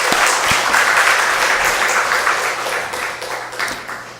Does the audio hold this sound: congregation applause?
yes